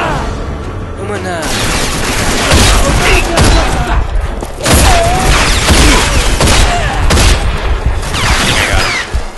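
Gunshots in the video game Rage, a dense, loud barrage of firing and heavy impacts that continues through the whole stretch, with a voice talking over it at times.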